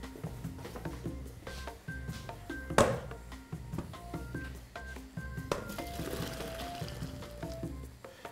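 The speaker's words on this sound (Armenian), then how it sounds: "Զգուշորեն այսպես խառնում ենք" Spinach pasta being stirred in a pot of water, soft clinks and scrapes of a utensil against metal with faint watery swishes, one sharper knock partway through, quiet with no talk.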